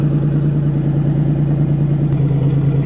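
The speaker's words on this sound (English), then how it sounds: "Don't you love the sound of redneck exhaust in the afternoon?" A 1990 Buick Century idles with crude, loud makeshift exhaust, a steady low rumbling drone with a fast pulsing throb, heard up close and unchanging apart from a brief knock near the end, with no voices.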